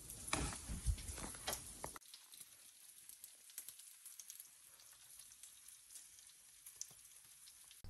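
Bacon sizzles in plenty of oil in a pan, a loud crackling burst at first that drops to a faint, steady hiss with scattered pops.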